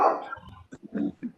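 A dog barks a few times in short, separate bursts in the background of an online meeting, with faint talk or noise early on.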